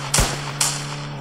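Two sharp video game gunshots from GTA V crack in quick succession, close and punchy, over a steady low electronic hum.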